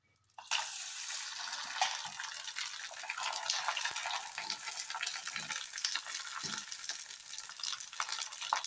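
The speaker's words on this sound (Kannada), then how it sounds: "ಎಣ್ಣೆ ಕಾದಿದೆ ಈಗ ಇದಕ್ಕೆ ಸಂಡಿಗೆ ಹಾಕ್ತಾ ಇದ್ದೀನಿ" Sabudana sandige hit hot oil and set off a sudden burst of bubbling, crackling sizzle that holds on loud and constant, with faint scraping underneath and no voices.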